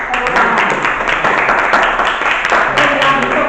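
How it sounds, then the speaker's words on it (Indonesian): A classroom group claps for group 3 after their presentation, a steady dense applause from many hands close by, with voices mixed in underneath. "Kita kasih aplaus."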